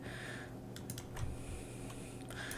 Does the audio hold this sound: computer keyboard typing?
yes